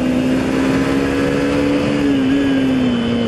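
A Hero Hunk 160R motorcycle, 2021 model, runs with a steady, loud engine drone while being ridden downhill through curves, holding a fairly even pitch throughout with no voices.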